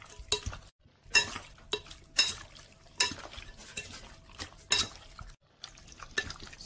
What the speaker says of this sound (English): now we are going to be using our wooden spatula to stir it up